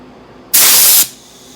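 A single half-second burst of loud, close hissing spray from a paint sprayer applying latex primer, starting abruptly and cutting off, surrounded by quiet room noise.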